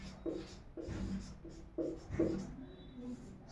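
Pen scratching out a Hindi grammar definition on paper, a series of short strokes and pauses, close and fairly quiet, no talking.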